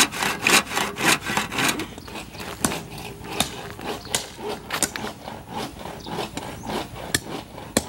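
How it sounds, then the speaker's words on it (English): A hand saw rasps back and forth through wood in a steady rhythm of strokes, nearby, then slows to a few spaced scrapes. "they're cutting a piece of wood"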